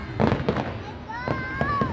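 Fireworks at a pyromusical competition by the Mall of Asia seaside crackle and pop in a few quick bursts, with whistling trails rising over them, while nearby people talk throughout.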